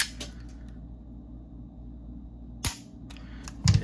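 A S&W M&P Shield Plus 9mm pistol's trigger breaks with a single sharp, close click partway through near-quiet, followed by a few faint handling clicks and a small clatter at the end.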